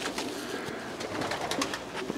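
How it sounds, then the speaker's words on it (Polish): A male racing pigeon coos close by in a loft, soft low throaty calls repeating steadily over a constant background hiss. "tutaj mamy samczyka z gołębi Michała Czecha"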